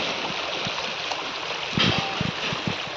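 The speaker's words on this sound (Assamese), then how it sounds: "পানীৰ শব্দটো ভাল লাগিছে" A stream rushes steadily nearby with a constant hissing flow, and a few low knocks and bumps break through now and then.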